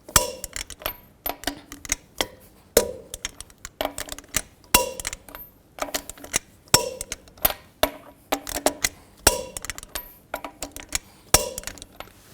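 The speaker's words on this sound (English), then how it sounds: "Now I'm going to torque these lug nuts to 140 foot-pounds in a star pattern to tighten the wheel down evenly." A torque wrench tightens lug nuts to 140 foot-pounds in a star pattern on a GMC Yukon wheel, making a series of sharp metallic clicks and clanks in a repeating rhythm, close and distinct, with no talk.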